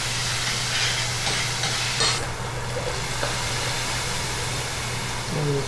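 Mushrooms hit a hot pan with chicken syrup and sizzle in a steady, close broadband hiss, with a low hum underneath and no talking.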